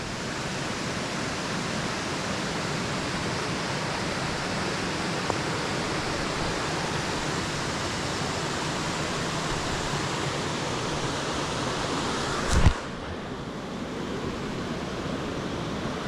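A waterfall at Stichill roars steadily in a loud, dense rush of falling water, unbroken apart from a brief bump near the end.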